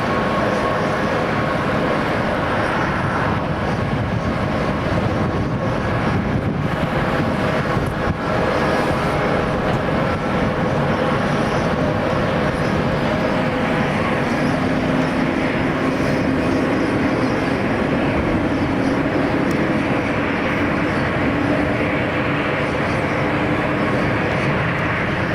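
Boeing 787 Dreamliner at Amsterdam Schiphol Airport giving off a steady, loud, broadband engine roar that holds through the whole stretch, with a faint rising tone partway in and no talk.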